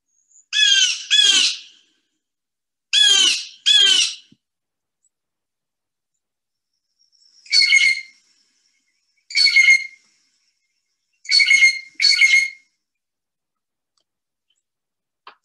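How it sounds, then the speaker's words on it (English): Songbird calls that resemble a crow, each a harsh pair of squawks, come in six spaced bursts, loud and close against silence. "And it sounds a little bit like a crow."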